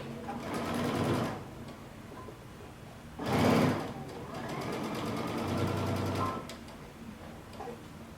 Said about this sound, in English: we're going to stitch them together at one end.